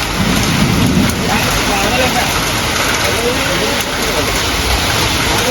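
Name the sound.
heavy rain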